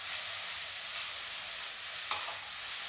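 Grated carrot being roasted and stirred in a pan for carrot halwa, an even hissing sizzle with one brief scrape or clink, close and steady with no voices.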